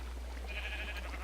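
A single faint, brief bleat from a Minecraft sheep sits under a steady low hum in a sheep-shearing farm.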